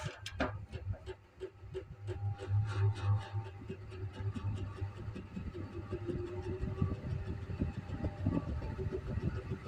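A manual honey extractor fitted with a motor spins up and settles into a steady rotation, a mechanical hum and rumble with rapid regular ticking clicks throughout.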